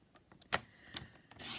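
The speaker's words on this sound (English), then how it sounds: "One of the lovely things about the new Stampin' Up trimmer is the fact that it'll do thin strips" A Stampin' Up paper trimmer slices a thin strip of cardstock, giving a few soft, brief rubbing scrapes of the blade across paper, close and quiet, ending in a longer sliding rasp.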